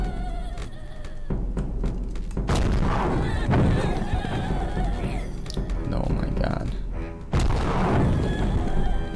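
Ballista shots boom and thud repeatedly in the battle game Totally Accurate Battle Simulator, with loud impacts over constant battle noise and scattered game sounds.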